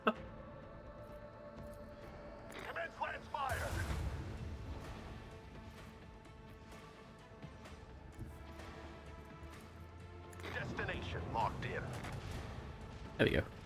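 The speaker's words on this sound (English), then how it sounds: "We'll kill those torpedoes with our own torpedoes." Torpedoes launched to intercept incoming enemy torpedoes in the space game Rogue Trader, a rumbling salvo of booming, gunfire-like bursts that swells twice over a sustained low drone, loud and dense, with no talking.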